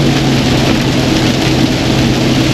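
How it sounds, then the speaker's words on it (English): Heavy rain pours down steadily outdoors, a dense, loud, unbroken wash of noise with no talk. "It's raining like crazy."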